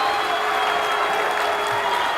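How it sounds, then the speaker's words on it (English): A home football crowd at a high school playoff game roars steadily, loud and sustained, with applause and cheering pressing the defense on late in a quarter; no break in the noise. "The crowd is trying to amp up the defense and have their back."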